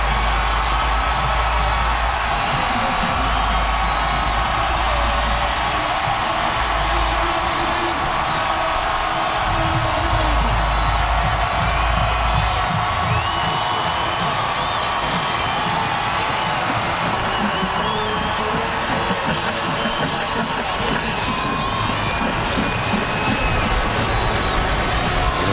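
Sellout stadium crowd at a college football game between Baylor and Oklahoma State, roaring and cheering as the Oklahoma State Cowboys come out of their tunnel; a dense, sustained wall of noise with whoops and clapping throughout.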